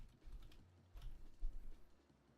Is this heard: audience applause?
no